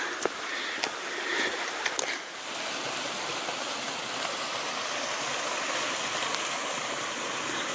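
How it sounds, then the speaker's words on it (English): Small trickling waterfall beside a railway hiking trail near Goldstream, a steady rushing stream of water heard close and continuous, with a few faint clicks early on and no talking. "This is what has my attention. The littlest waterfall."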